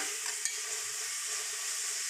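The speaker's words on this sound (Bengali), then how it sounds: "গুঁড়ো মশলা দিয়ে দিব, 2-1 মিনিট কষিয়ে" Ground spices sautéing in a pan for a Bengali chickpea curry, giving a steady faint sizzle with a brief scrape of stirring near the start.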